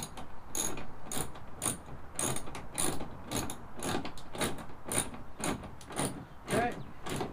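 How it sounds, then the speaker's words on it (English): Ratchet with an 8mm socket tightening a bolt on a truck bed toolbox, quick bursts of clicking repeated in a steady rhythm, close and clear, with some speech mixed in. "take my 8mm socket here. We're gonna flip it, and then we're just gonna tighten this up."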